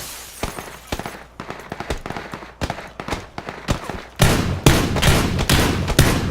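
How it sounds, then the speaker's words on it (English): Gunfire in the battle royale game PUBG: sharp single shots crack at irregular intervals, then a denser, louder stretch of rapid shots and echoing reports takes over near the end, all without any talking. "I'm getting shot at."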